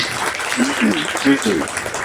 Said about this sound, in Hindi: इनके लिए एक बार जोरदार तालियां हो जाएं।